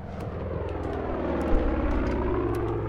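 An aircraft engine drones in flight in Far Cry 5, a steady propeller hum that swells slightly with one brief bump partway through, and no voices are heard.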